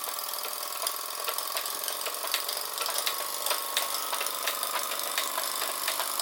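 Small Australian-made SteamCo STC 04 model steam engine powering a Jensen #100 workshop set, running with a fast, light, even chuffing and ticking at moderate volume, steady throughout.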